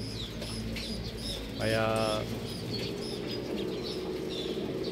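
Homing pigeons coo in soft, repeated calls with one longer throaty coo, close against a steady low background, with chirps scattered throughout and a voice briefly speaking.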